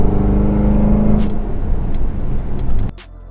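A Range Rover Sport SVR's engine and exhaust sound off loud and close with a deep, steady rumble and a few sharp pops, then drop abruptly to a low idle.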